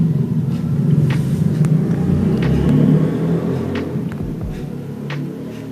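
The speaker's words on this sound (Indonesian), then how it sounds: "truk yang sudah kosong masuk ke jembatan timbang" An empty sugarcane truck rolls onto an electronic weighbridge at a sugar mill yard, a steady low engine rumble with a few faint clanks, fairly close and without speech.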